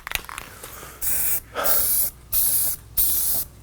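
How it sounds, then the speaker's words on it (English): Spray paint hisses onto an arcade cabinet in four long, steady bursts, each around half a second to a second long with short gaps between. The bursts are loud and close, with a few small handling sounds just before them. "This is a big area for spray paint, if you ask me."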